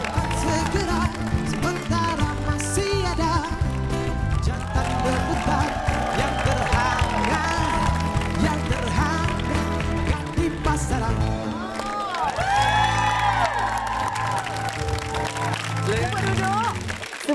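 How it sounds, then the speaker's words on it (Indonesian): A studio audience on a Malaysian talk show bursts into sustained applause and cheering for a guest, a dense crowd roar that carries on for the whole stretch while music plays underneath. "Kita berikan tepukan untuk Dato' Fizz Fairuz."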